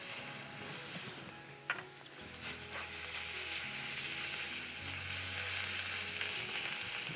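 Butter and garlic sizzle in a hot pan over a B&B Charcoal fire, a soft steady frying hiss with a few clicks and clatters near the start.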